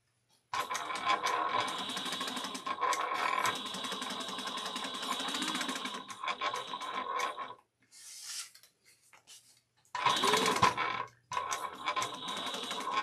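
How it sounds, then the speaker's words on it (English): Sewing machine running back stitches across the pleated fabric of a travel bag, a steady mechanical hum broken by short pauses and brief restarts, close by, with no one speaking. "And then you could just do a couple back stitches on the pleats area."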